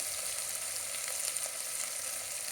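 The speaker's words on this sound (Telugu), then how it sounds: "అందులో నీరంతా పోయి మాంసం కూడా మటన్ కూడా బాగా వేగిందన్నమాట" Mutton fries in a pan with a steady, dense sizzle that holds even throughout and has no talk over it.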